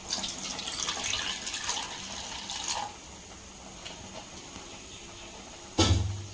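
Milk is poured into a pan for a vegetable biryani white sauce, a steady close splashing pour that stops partway through, followed by a short clunk near the end.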